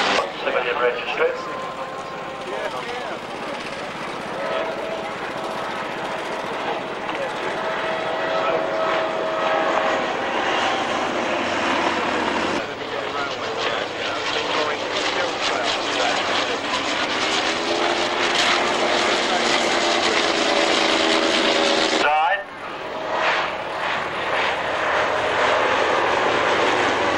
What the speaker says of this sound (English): Something triplane is a modern rebuild, but with a proper rotary engine.